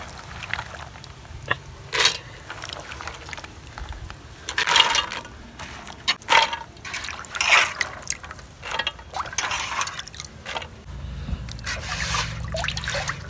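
Raw peanuts being rinsed in water by hand, with irregular splashing, trickling and sloshing bursts at close range and no speech.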